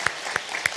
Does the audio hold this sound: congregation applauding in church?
yes